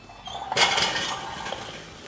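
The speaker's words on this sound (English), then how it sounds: "Don't forget to carefully put your grill back in place." A metal grill grate is set back onto a charcoal kettle barbecue, giving a single loud metallic clank that rings and fades over about a second.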